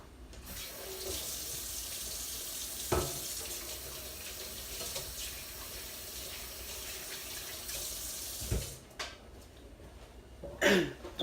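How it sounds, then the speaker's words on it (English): A kitchen tap runs steadily while hands are washed under it, a close continuous splashing stream with a couple of sharp knocks and a cough, then the flow stops near the end. "let me wash my hands real quick"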